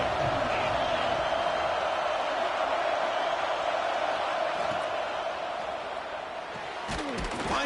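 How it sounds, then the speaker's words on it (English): Football stadium crowd cheering on a third down, a broad sustained roar of many voices filling the space, with a few sharp thuds near the end. "3rd down, and the crowd really getting into it."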